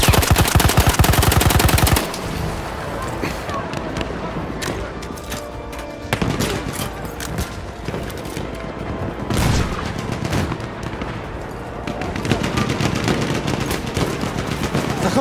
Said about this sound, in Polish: Wróg ma karabin maszynowy!